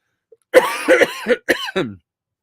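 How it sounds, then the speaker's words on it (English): A person coughs several times in quick succession, a close, dry hacking burst with a brief throat-clearing quality, then silence. "pardon my cough"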